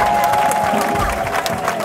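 A church congregation claps together during a Jehovah Jireh choir worship service. The applause is close and continuous, with crowd murmur running underneath.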